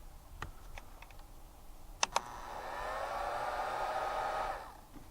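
A Wagner heat gun running off an ALLFAA 1500W inverter: a couple of switch clicks, then a steady blowing whir that lasts about two seconds and cuts out as the inverter shuts down.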